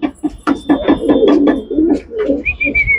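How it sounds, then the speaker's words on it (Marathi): A racing pigeon coos in repeated soft, throaty pulses close to the microphone, with a faint higher chirp near the end. "त्यांच्या हवेतला हा कबूतर असा रेसर मध्ये पाळलेला पक्षी"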